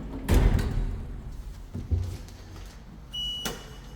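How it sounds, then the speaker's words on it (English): A 1991 Otis lift in a car park opens its doors with a couple of mechanical thuds and a sliding rumble, then a brief high tone near the end, all fairly close and with no voices. "Doors opening."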